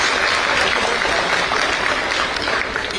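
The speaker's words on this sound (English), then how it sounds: "So big round of applause to you." Steady applause from a crowd at a hospital department launch in Goa fills the whole stretch, dense and even, with no pauses.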